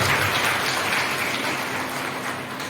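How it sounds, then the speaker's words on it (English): Applause for teachers at a DAV Manpur Zone E teachers' workshop, a steady dense patter of many hands clapping together in a hall, fairly loud and continuous, slowly tapering off. "You deserve clapping for yourself."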